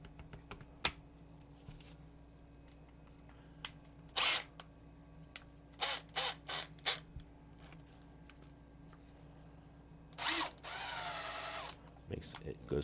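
A Milwaukee FUEL 1/4-inch impact driver under repair for a fault where it would not change direction, giving several short whirring bursts and one longer run, fairly faint, with clicks between them.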